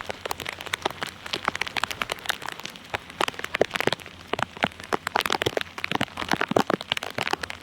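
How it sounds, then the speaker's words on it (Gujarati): Dense, irregular patter of rain striking a hard surface nearby, with sharp drops cracking through steadily and no voices. "વરસાદ તો ચાલુ જ છે"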